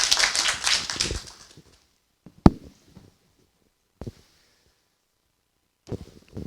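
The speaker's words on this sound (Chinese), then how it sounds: "来，掌声鼓励一下陈院长" Audience applause greets the medical school dean at the closing of an international medical education conference in Taipei: a dense burst of clapping that fades within about a second and a half, followed by near silence broken by a few isolated sharp taps.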